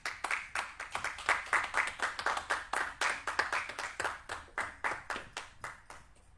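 A church congregation applauding at a worship service, rapid rhythmic clapping that is loud and steady throughout with no voices on top.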